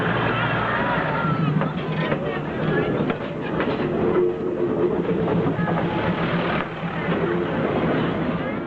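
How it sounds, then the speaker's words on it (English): A train creeps slowly along a railway line running through a crowded market in China, a steady low rumble and faint clatter mixed with constant crowd babble. "The train moves at just 19 miles per hour on average"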